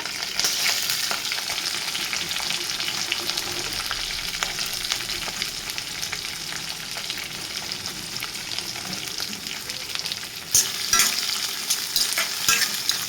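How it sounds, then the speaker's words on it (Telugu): Onion, garlic, mustard seeds, dried red chillies and green chillies fry in a pan as the base for an amaranth-leaf curry, giving a steady close sizzle with occasional stirring scrapes and no talking. "అలాగే 1 ఉల్లిపాయ వేస్తున్నాను. ఇవి బాగా వేగాలన్నమాట."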